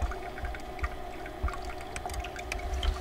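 A small trickle of water runs into the inlet of a gold sluice at a low flow, a steady gentle pour with faint splashes and a constant hum beneath.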